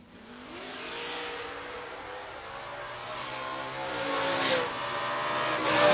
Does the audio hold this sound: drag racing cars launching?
yes